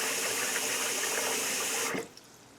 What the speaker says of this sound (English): Now I have a trough style sink, so it can't hold much water, but it's still okay for me to wash the wig.